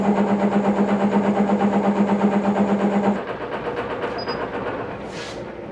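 A wood lathe spins a maple burl bowl blank at 500 RPM, giving a steady pulsing mechanical hum with a strong low tone for about three seconds before it drops to a quieter, rougher whir.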